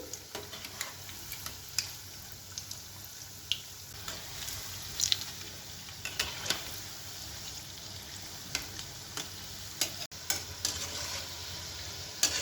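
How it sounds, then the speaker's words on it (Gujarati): Batata vada, Gujarati potato fritters, frying in hot oil over medium heat: a steady close sizzle and bubbling with scattered light pops and ticks throughout, no voices. "જો આ બટાકાવડા તળીને તૈયાર થઈ ગયા છે"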